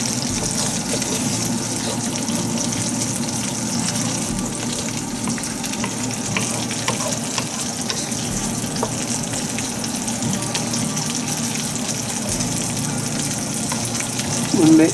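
Duck frying in a pan with stock for a sesame stir fry, a steady loud sizzle and bubbling that runs unbroken, with faint stirring and a brief louder burst at the end.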